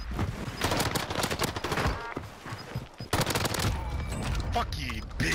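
Dense gunfire rattles through a Call of Duty: Warzone match as rapid machine-gun bursts and volleys fill the clip loudly, with a brief gap midway before the shooting resumes.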